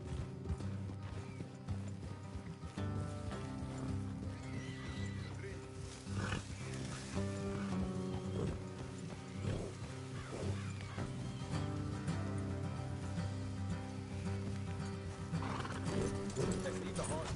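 Horses clip-clop along at a steady trot with occasional neighs, layered over a constant bed of game music and ambient noise in Red Dead Redemption 2.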